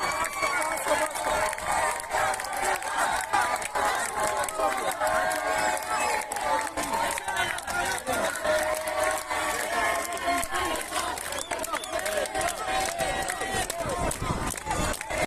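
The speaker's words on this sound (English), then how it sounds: "The crowds cheer her on as she is driven away in a van with tinted windows." A large crowd cheers and chants continuously in Tehran as climber Elnaz Rekabi is driven away in a van with tinted windows, a dense roar of many voices holding steady throughout.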